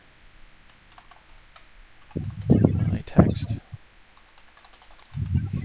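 Bursts of typing clatter on a computer keyboard while someone writes a C++/Qt message box program, the keystrokes close and quick in two clusters, mixed with a brief spoken remark.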